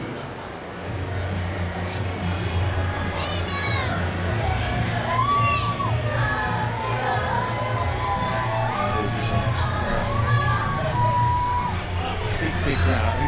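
Large crowd at a women's T20 cricket match at Old Trafford, England against India, a steady roar of voices with whoops and children shouting, while a commentator talks over it.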